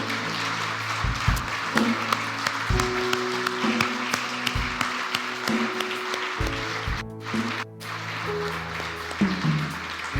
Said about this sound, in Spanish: ¿Cuánto levantamos un fuerte aplauso al Dios del cielo?